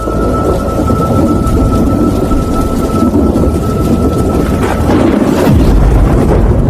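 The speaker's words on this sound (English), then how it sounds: "There was hardly any part of the sky that wasn't bursting with this flood-like rain." Heavy rain pours steadily and loudly throughout, with thunder rumbling and building to a deeper crack near the end; no voices.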